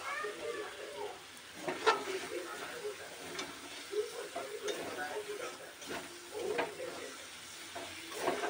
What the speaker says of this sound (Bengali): চাল ডাল আমার কষানো হয়ে গেছে মশলার মধ্যে